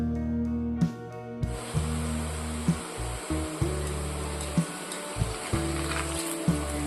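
Sweet seeni murukku dough pressed into hot frying oil hisses in a steady broadband sizzle, with a strong low hum and repeated soft thumps and clicks throughout; no talking.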